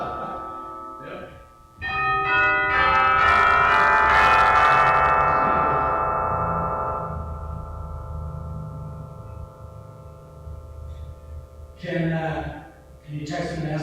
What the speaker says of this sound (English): Hear the chimes.